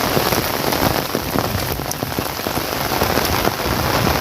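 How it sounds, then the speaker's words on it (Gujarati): Heavy rain pours down steadily during a flood, a dense continuous hiss of drops striking surfaces close by, loud and unbroken with no voices. "વરસાદ એવો પડ્યો છે જોરદાર"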